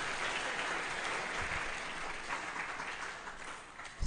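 Applause from an audience at a public university lecture given by Papua's chief prosecutor at UNMUS, a steady broad clatter of many hands held throughout, swelling slightly at the end.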